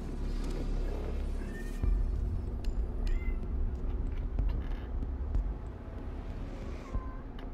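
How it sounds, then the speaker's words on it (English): A cat meows several times over a low rumbling background, short rising calls spaced a second or two apart, fairly close. "I don't even know what you're meowing at."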